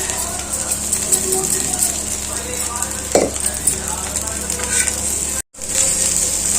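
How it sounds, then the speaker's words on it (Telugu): Egg fried rice with garam masala sizzles steadily in a hot pan while being stirred and mixed, with a continuous hissing fry, occasional utensil scrapes and a brief clink near the middle. "ఎగ్ రైస్ మంచిగా మిక్స్ చేసుకొని ఒక 2 నిమిషాలు వేడి చేసుకుందాం."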